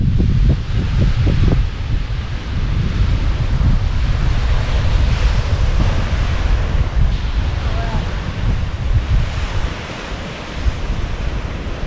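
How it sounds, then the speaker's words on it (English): Steady ocean surf on Saaremaa, Estonia, roars continuously with gusty wind buffeting the microphone, a broad wash of waves breaking nearby with no voices. "you can just hear the surf"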